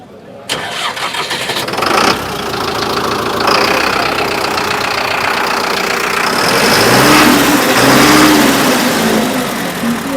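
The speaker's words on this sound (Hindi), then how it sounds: "शानदार आवाज है ट्रैक्टर की" A heavy 75 horsepower diesel tractor engine at an agricultural fair starts with a sharp crank and settles into a loud, steady chugging idle, with a slight rise in revs near the end.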